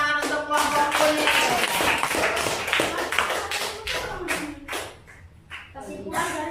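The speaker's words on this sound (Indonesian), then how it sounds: "tepuk tangan untuk kelompok kuning" Classroom applause for a student group, a dense burst of many hands clapping at close range that thins out and fades partway through, with a brief lull before scattered claps pick up again.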